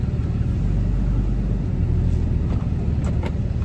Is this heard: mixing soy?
no